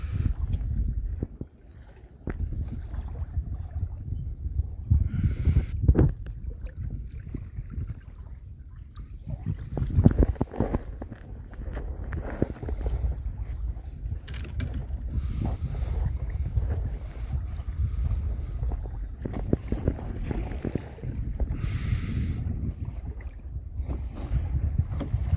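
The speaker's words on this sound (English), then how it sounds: "The wind is picking up a little bit as we're getting further from the land" Wind gusts across the microphone while a sailing canoe heads out to sea off Plymouth Sound, a low rumbling buffet that swells and eases in waves over steady water wash and rigging noise, with no one talking.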